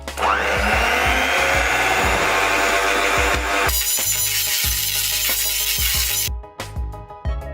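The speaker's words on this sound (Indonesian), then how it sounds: "Lalu mixer dengan kecepatan paling rendah hingga tercampur rata." Electric hand mixer whirring at its lowest speed through glutinous rice flour batter, a loud steady motor drone with rhythmic bumps, changing pitch partway before switching off near the end.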